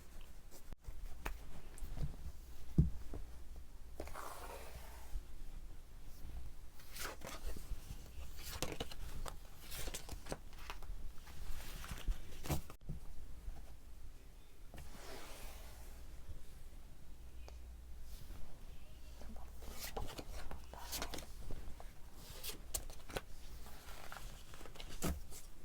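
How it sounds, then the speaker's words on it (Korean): Tarot cards shuffled and drawn for a love reading, with soft, close papery slides, flicks and taps recurring through the stretch, a quiet handling texture with no talk. "연애를 어떻게 생각하는지에 대해서 카드 먼저 뽑아보겠습니다"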